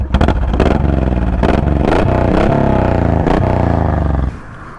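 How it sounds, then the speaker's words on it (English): A Honda VTX1800 cruiser motorcycle engine rumbles low and loud at close range, with uneven throttle blips and a throaty exhaust pulse, then drops away at the end. "The exhaust doesn't sound too bad."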